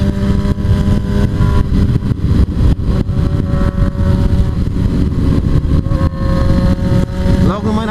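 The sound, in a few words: motorcycles revving and accelerating, Honda CB1000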